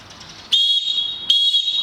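Two sharp blasts of a handball referee's whistle signalling a goal, each a loud steady shrill tone starting abruptly, the second following shortly after the first, close and clear with no talk.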